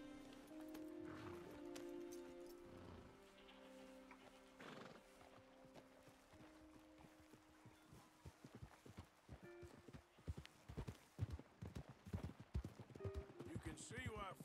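Horse hooves clip-clop in Red Dead Redemption 2, first slow then a quickening run of sharp, close hoofbeats, with a horse neighing and characters talking over the opening seconds.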